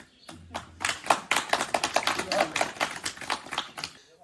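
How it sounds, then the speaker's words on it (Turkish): Villagers in a smoke-free Turkish village break into lively applause, a dense burst of many hands clapping close and fairly loud, building quickly and continuing steadily. "Bir de alkış vurun bakayım."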